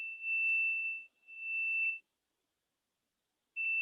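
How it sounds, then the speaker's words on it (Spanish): A multimeter's steady continuity beep sounds twice in close succession while testing an air conditioner circuit board, falls silent for a moment, then starts again; clear and fairly quiet. "Vamos a colocar el tester en continuidad en la posición en que hace el pitido"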